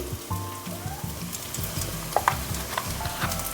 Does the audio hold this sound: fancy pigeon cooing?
no